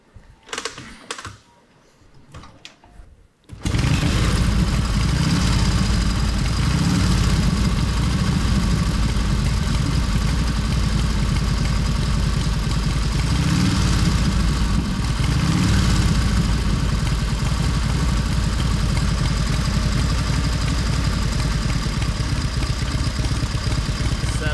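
A 1929 Harley-Davidson JDH motorcycle engine catches after a kick start and keeps running steadily up close, a loud continuous mechanical clatter with no talk over it.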